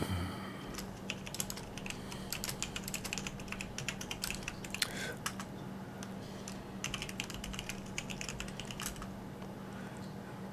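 A computer keyboard clatters in quick irregular bursts of keystrokes as an apt update command goes in on a KDE neon 5.17.5 system, close and clear, with short pauses between runs and no talking.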